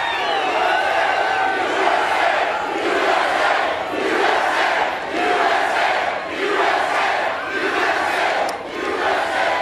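A large crowd at a campaign rally in Orlando, Florida roars and chants in rhythmic, repeated swells, loud and sustained throughout.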